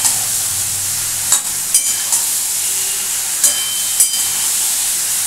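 Small eggplants fry in a pan with loud, steady hissing oil, punctuated by several brief sharp crackles and stirring clacks, heard up close.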